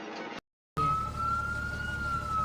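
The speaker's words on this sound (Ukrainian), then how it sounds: "Пожежна автівка вже поспішає." A fire engine siren sounds loud and close, one steady sustained tone that continues after a brief silent gap.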